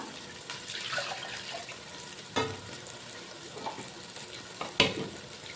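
Tamarind water splashes and trickles into a masala jar amid a steady sizzling background, with a couple of sharper clinks along the way.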